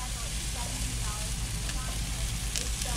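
Cobia fillets cooking over a grill flame, making a dense, steady sizzle and crackle that continues loudly without a break, with a voice speaking briefly over it.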